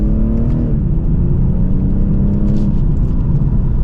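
2024 BMW 840i xDrive coupe accelerating hard in second gear in sport mode, a loud, dense engine and exhaust roar with rising pitch and heavy low-end rumble, heard from inside the cabin without talk.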